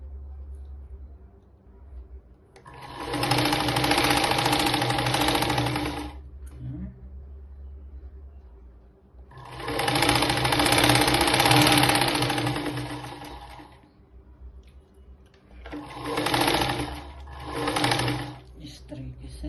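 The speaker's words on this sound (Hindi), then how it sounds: "मैंने लगा देनी है सिलाई" Electric sewing machine stitching a blouse with boat neck and sleeve tucks, running in three loud bursts of steady rapid whirring and needle chatter, the last broken into two short runs, with quiet pauses between.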